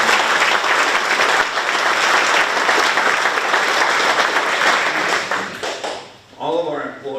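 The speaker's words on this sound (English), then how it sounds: "give the students a round of applause" An audience gives students sustained, dense applause at the opening of a construction career center, and the clapping fades as a voice starts to speak at the end.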